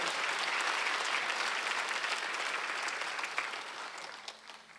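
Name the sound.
church congregation applauding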